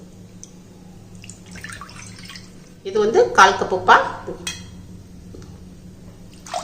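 Water poured from a cup into ragi flour, a short splashing pour in the middle, close and fairly quiet, with a person talking over it.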